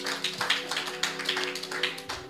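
A church congregation applauds, a brief patter of many hands clapping at moderate distance, fairly quiet, over a steady low hum.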